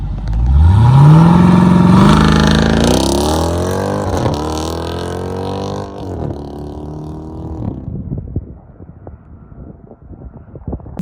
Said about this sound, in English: I'm going to play you guys a clip of my X-pipe.